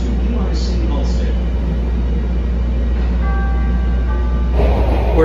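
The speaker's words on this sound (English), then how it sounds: "This is a Blue Line train to UIC Halsted." Chicago Blue Line subway train running toward UIC Halsted, a steady low rumble throughout with brief squeal tones and a louder clatter near the end, no talk.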